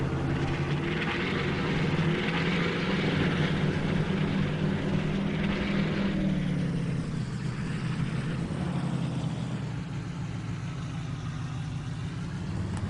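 A Chevy Kodiak truck driving in Farming Simulator, a continuous droning engine tone that rises and shifts in pitch as it picks up speed, steady and fairly loud with no talking.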